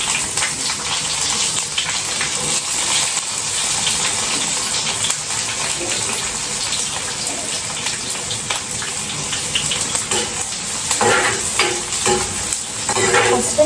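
Onions fry in a clay pot, a loud, continuous sizzle broken by frequent stirring scrapes and clinks close by.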